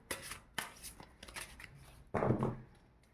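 Tarot cards are shuffled by hand in a series of quick riffling bursts and soft taps, the last burst louder and fuller.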